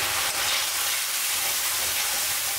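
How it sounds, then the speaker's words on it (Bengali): Ground coriander, cumin, turmeric and chili powder sizzle steadily as they sauté in a pan, a continuous close frying hiss with no talking. "এখন মশলাটা ভালো করে কষিয়ে নেব।"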